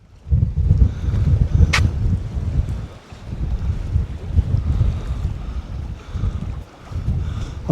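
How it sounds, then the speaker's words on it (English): A cold easterly wind gusts across the mic on Holyhead breakwater during sea fishing, a steady, loud low roar of buffeting that swells and dips, with a faint wash of sea under it. "I don't know if you're picking it up on the mic or not, but it's blowing. It's not pleasant. That wind's cold."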